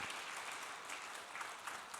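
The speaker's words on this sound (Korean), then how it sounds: "박수로 환영해 주시기 바랍니다." A church congregation claps in welcome for a newcomer, a soft, even wash of many hands heard faintly from a distance and sustained throughout.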